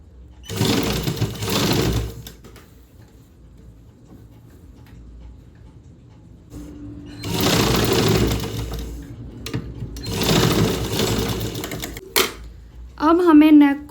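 Sewing machine stitching the neck of a deep-neck sleeveless kurti, running in loud close whirring bursts separated by pauses, with someone speaking between the runs.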